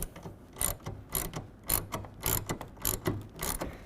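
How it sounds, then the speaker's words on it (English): A 9/16 ratchet tightens a bolt on a RetraxPRO MX tonneau cover rail on a 2023 Ford F-250 HD. The pawl gives a steady run of close, rhythmic clicking strokes. "we can go ahead and tighten it down in place right here using the 9/16 again"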